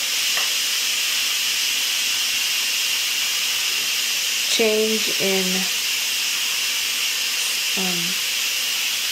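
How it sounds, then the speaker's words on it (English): Continuous high-pitched steam hiss from an Instant Pot pressure cooker releasing steam after cooking ham and bean soup, steady and fairly strong, with a few brief spoken words over it. "You can tell that the steam is slowing down. It doesn't sound as forceful."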